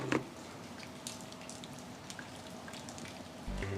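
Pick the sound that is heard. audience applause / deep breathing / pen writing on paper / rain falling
rain falling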